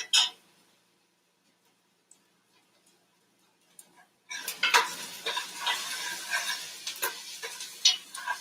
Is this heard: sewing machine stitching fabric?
no